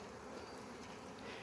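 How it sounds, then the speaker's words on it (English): Honeybees buzz around a hive on parkland in spring, a dense, continuous hum of many insects at close range with no voices. "bees are very busy because we're on a bit of parkland and there's loads of dandelions and things, so they're bringing in lots of pollen"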